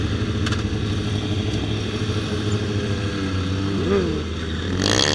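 A motorcycle engine running at a lot session, idling loudly and close with a steady throbbing drone, with a brief rise in revs near the end and faint voices mixed in.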